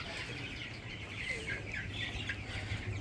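A crowd of broiler chickens on a raised slatted-floor farm clucks and chirps steadily throughout, a dense flock chorus over a low constant hum, with no talking.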